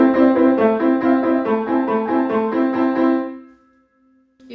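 Piano played with poorly balanced hands, the melody line too soft against the accompaniment, steady repeated notes for about three seconds before a decay into near silence and a faint final tap.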